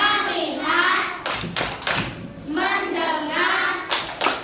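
A group of people claps in a 'tepuk fokus' rhythm game during an ice-breaking session, sharp bursts of clapping in short patterned sets alternating with chanted speech.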